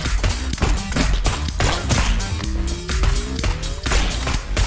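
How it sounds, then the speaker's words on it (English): A bomb detonating in the video game Neon Abyss, heard as loud thumping blasts among dense rapid game effects and a rising tone, all close and busy. "Yep, that's a bomb!"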